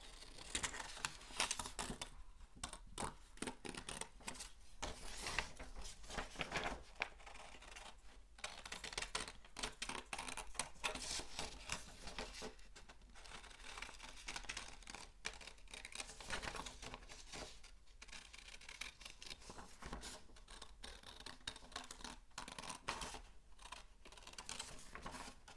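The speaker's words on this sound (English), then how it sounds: "I'm going to cut over from the edge of the paper to this where the circle starts" Scissors snip steadily through paper while a spiral snake craft is cut out, a continuous close crisp crunching and rustling with no talk.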